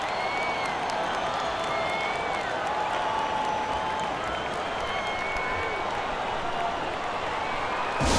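Indiana Pacers home crowd in NBA 2K25 keeps up a steady wash of applause and cheering through a playoff timeout, with a game commentator's voice faintly beneath.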